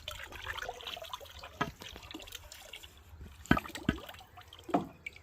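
Water sloshes and trickles inside a 200-litre drum as fertilizer solution for a ginger crop is stirred in with a stick. The splashes are faint and uneven, with a few sharper drips and swishes standing out from a quiet background.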